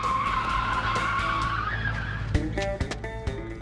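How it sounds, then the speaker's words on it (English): A conjoined car, two cars joined together, skids as the wheel is yanked at 40 mph approaching a corner: a long, loud tire squeal followed by several sharp thumps and scrapes. "Grant gets the Conjoined Car up to 40 miles per hour, and then with the corner approaching, yanks the wheel"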